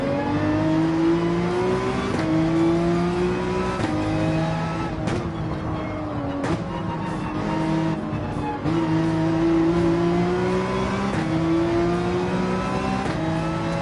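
Racing cars in Gran Turismo 7 roar continuously through a last-lap race, engine pitch climbing and dropping through gear shifts, with brief tire squeal and skidding under a steady, loud wall of engine noise.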